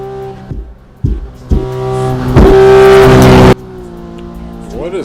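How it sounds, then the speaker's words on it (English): A Civic Type R engine in a video game revs loudly in a steady high-pitched whine, with sharper bursts and shifts earlier on, then drops to a lower idle drone. "What is up with the sound of this car"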